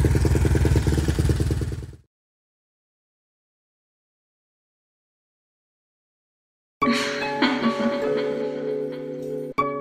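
A Suzuki LTR 450 quad engine with a newly replaced and adjusted throttle position sensor runs on a test ride for about two seconds, cuts to silence, then roars back to a steady, loud rev with mechanical clatter.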